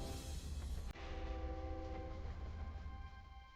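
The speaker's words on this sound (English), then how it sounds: "Where is that train going, Mr. Oscar?" A train in a VR adventure game, a remake of a 2D title, sounds as a steady rumbling rolling noise. Sustained tones from a horn or bell ring over it, and a sharp cut near the start leaves a continuous mechanical drone.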